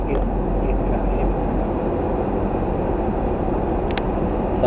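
A car's air-conditioning fan blows at full strength, a steady broadband whoosh that stays loud and unchanging throughout, with no talk over it.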